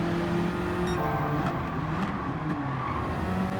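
A race car engine in a Gran Turismo 7 race holds a steady, droning high-revving tone during a short drag race, with slight pitch shifts as it accelerates, loud and close with no talk.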